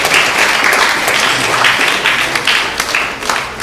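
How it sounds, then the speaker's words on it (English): A large audience at a japa retreat breaks into steady, dense applause, loud and sustained throughout with no talking over it. "Please give them a big round of applause."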